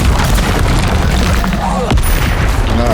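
A loud, continuous fiery blast from the Incendio fire spell in the video game Hogwarts Legacy, a dense roaring burst of booming energy filling the whole stretch with a sharp crack near the end.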